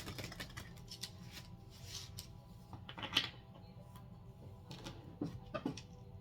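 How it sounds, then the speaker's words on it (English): A tarot card deck being shuffled, with soft papery riffles and slaps in a quiet room, a few sharper card snaps standing out near the end, with no talking. "Last shuffle here."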